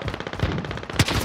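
Rapid automatic gunfire in Call of Duty Warzone, a burst of sharp close shots in quick rhythm with a heavier crack near the end.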